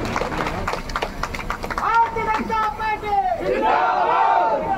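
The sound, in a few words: crowd applause at a political rally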